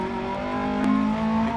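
Rally car engine in Dirt Rally 2.0 holding a steady, loud rev, a droning tone rising slightly near the middle, heard alone without talk.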